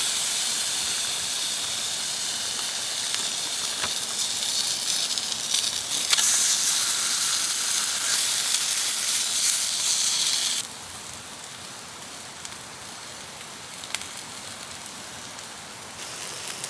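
Ribeye steak sizzles hard in a very hot pan at an outdoor camp cook, a loud, steady hissing sizzle that flares louder midway and then settles to a quieter, continuous fry with small pops.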